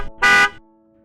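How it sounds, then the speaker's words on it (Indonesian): A single short honk of a car horn sounding from behind, loud and close for about a quarter second, then a quiet electronic tone lingering underneath. "Suara klakson dari arah belakang mengagetkan Azalea"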